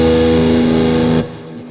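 An electric guitar played through a Wilkinson WHHB R Series humbucker on the front pickup with heavy distortion sustains a loud, thick chord, then cuts off abruptly into a quieter ringing tail.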